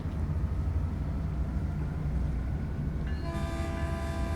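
Caltrain commuter train in Train Sim World 2 rolling steadily and slowing on approach to Millbrae station, a constant loud rumble of wheels and motor, with a sustained horn-like tonal note sounding near the end.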